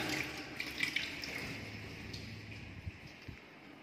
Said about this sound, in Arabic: ضغط مية عندي هنا ممتاز جدا